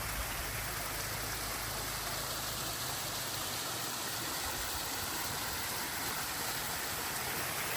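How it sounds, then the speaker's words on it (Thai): A waterfall at Doi Ang Khang in Chiang Mai roars as a steady broadband wash of water, with a low engine rumble underneath in the first few seconds, continuous and without talk. "ตรงนี้ก็เป็นน้ำตกครับ"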